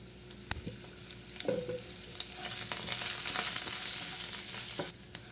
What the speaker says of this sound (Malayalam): നമുക്കിതൊന്ന് വറുത്തെടുക്കാം കേട്ടോ